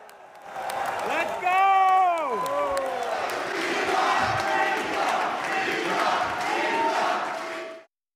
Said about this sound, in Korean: 주주들도 박수를 치며 환호합니다.